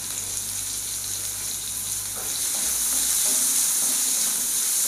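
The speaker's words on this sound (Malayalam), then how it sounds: "ഇതൊന്ന് വഴറ്റട്ടെ." Bitter gourd (pavakka) sautéing with salt in a pan, a steady close sizzle with faint stirring scrapes, continuous and alone without voices.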